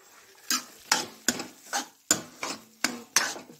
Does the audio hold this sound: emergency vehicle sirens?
no